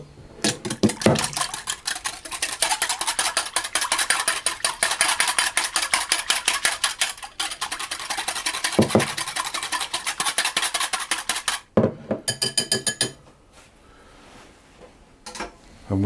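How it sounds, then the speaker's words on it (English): A whisk beats egg and vanilla extract together in a bowl, a rapid steady clatter of fast strokes for most of the stretch, then a short pause and a few brisk final bursts. "the teaspoon of vanilla extract into a bowl, and I'm going to whisk those together."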